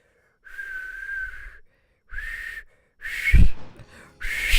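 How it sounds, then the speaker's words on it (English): A person tries to whistle to call a dog, producing a few shaky, breathy whistle tones in separate bursts with pauses between them, close to the listener, ending in louder airy puffs. "I'm not really good at whistling."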